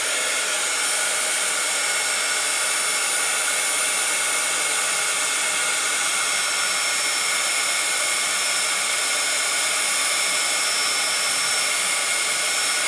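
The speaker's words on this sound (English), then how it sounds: "bring our heat tool back over and heat this up to melt the embossing powder" A crafting heat tool blows a steady, even whir while melting embossing powder on a card, close and constant for the whole stretch with no talking.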